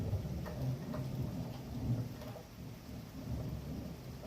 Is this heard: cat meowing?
no